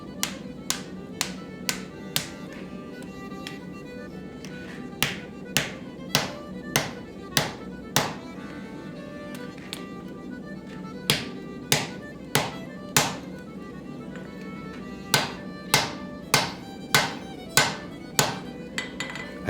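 Hot steel is hammered on an anvil to fold an axe with an asymmetrical fold technique, bursts of evenly paced, ringing close blows separated by short pauses, with no talking.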